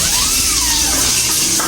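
Water runs steadily from a tap indoors, a continuous broadband hiss and splash that stays loud and constant without any talking over it.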